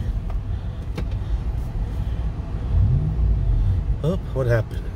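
Toyota 4Runner with a chopped cab mount, engine rumbling while driving off-road, with a brief rising rev near the end and a voice speaking briefly over it.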